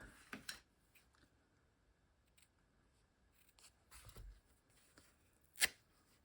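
Scissors snipping fabric for a hand-stitched collage, a few faint, sparse cuts in a quiet room, with one sharper, louder snip near the end.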